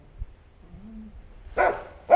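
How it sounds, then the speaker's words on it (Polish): A dog barks in a farmyard near a granary where a Stihl chainsaw is being used, giving two sharp, close barks near the end after a quiet stretch. "Jak zawsze pies musi przeszkadzać nam"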